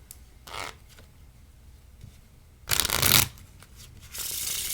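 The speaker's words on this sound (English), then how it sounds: "you can just riffle them like this, and then you can either push them together" Playing cards riffle-shuffled on a table, with two short bursts of rapid fluttering flicks and a louder sustained riffle, then a final cascade, close up and without talk.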